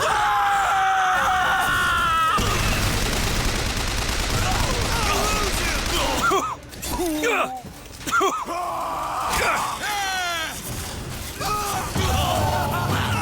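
Rapid gunfire bursts from Armored Core VI mech combat, loud and sustained, mixed with screaming voices and intense game noise.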